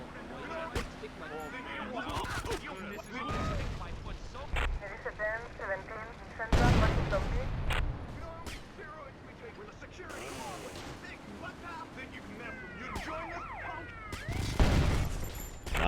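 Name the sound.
grenade explosions in video game GTA Vice City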